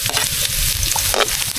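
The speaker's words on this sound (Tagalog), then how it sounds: "Mag-inisa muna tayo guys. Siyempre unahin natin itong luya." Ginger sautéing in a hot pan, a close, continuous sizzle with stirring scrapes over a short stretch, no talking.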